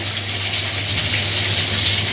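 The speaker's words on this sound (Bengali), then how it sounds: "আর একটু পানি দিই না" Water gushes steadily in a loud, continuous pour for a couple of seconds into a cumin and coriander spice paste, with no voices.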